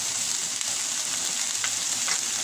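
Onions sauteing in oil after garlic has been browned, a steady dense sizzle close by with faint stirring sounds and no talking.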